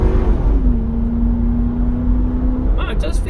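A 1998 Lincoln Navigator luxury SUV with a 4-speed automatic accelerates hard, its engine holding a steady, droning tone close to the cabin for several seconds before the pitch breaks near the end.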